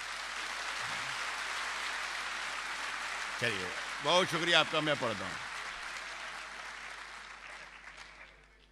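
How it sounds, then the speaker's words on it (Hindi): Audience at a Delhi mushaira applauding steadily throughout, a broad wash of clapping from a large crowd, with someone speaking briefly over it midway before the clapping fades toward the end. "एक बार जोरदार तालियों से अपने।"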